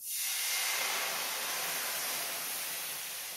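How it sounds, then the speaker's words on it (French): White wine poured into a hot pan to deglaze it after browning chicken for a Basque-style chicken dish: a sudden burst of steamy hiss that sets in at once and holds, slowly easing, close and fairly soft, with no speech. "Et donc je vais déglacer la poêle avec un demi-verre de vin blanc."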